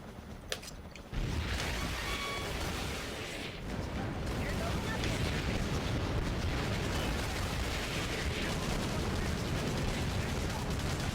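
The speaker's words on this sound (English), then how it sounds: "Continue bombarding. Direct fire artillery." Artillery fire and explosions in the war game Battalion Wars form a steady, loud roar of distant blasts and crackling gunfire that starts abruptly after a second of quieter action sounds, with someone talking over it.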